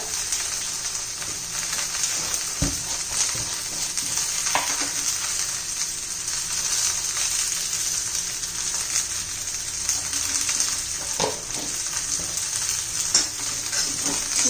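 Okra masala sizzles steadily in a pan over moderate heat, a continuous bright frying hiss with occasional soft clinks and stirring scrapes, close and even in level throughout.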